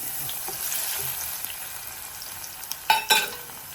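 Fenugreek, dried chilli and crushed garlic frying in hot oil for a homemade mango pickle, a faint steady sizzle with light stirring, ending in a few louder clattering scrapes near the close.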